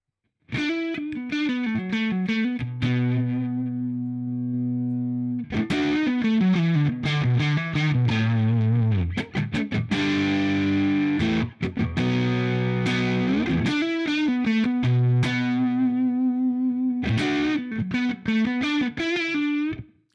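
Overdriven electric guitar through a Line 6 Helix modeler with Greenback speaker sound, playing chords and riffs with bright, moderate distortion, strummed in bursts with brief pauses, loud and continuous.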